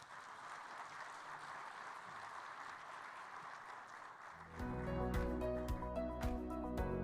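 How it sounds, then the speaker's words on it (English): A conference audience applauds after a speech by Jamaica's Prime Minister Andrew Holness. A steady wash of clapping fills the first few seconds, then loud music cuts in and takes over. "Another round of applause for Most Honorable Andrew Michael Holness, Prime Minister of Jamaica."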